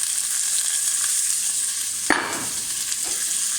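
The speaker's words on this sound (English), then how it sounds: "now that oil should be getting hot" Hot oil sizzles steadily in a frying pan on the stove, a constant close hiss, with a brief louder crackle burst just past the midpoint before settling back into the even sizzle.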